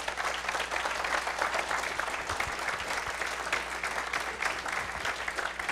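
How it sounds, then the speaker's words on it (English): An audience at a security conference claps after a talk on SSH honeypots: a steady, dense round of applause with no speech over it. "one more round of applause because that was really good"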